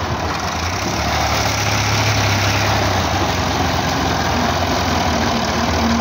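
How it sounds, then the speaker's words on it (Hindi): A 260 tractor engine idles at a farm while a trolley is loaded with soil: a steady, loud, close diesel rumble that runs without a break, with no voices over it. "260 ट्रैक्टर भी आ गया"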